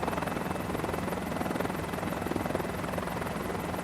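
Mini 500 helicopter in flight in Microsoft Flight Simulator 2024, a steady close rotor thrum with a dense, even engine buzz running continuously without a break.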